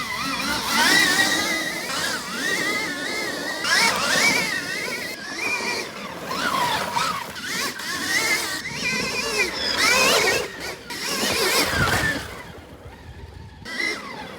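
An 80HP Stark Varg electric dirt bike ridden hard, its whining drive rising and falling in pitch continuously and fairly loud, with a voice talking over parts of it.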